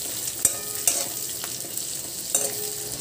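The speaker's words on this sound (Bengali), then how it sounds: "সব একসাথে একটু নাড়াচাড়া করে" Capsicum, potato and green chillies are stirred together in a pan, with a few sharp spatula knocks against the metal over a continuous low sizzle, close up and without talk.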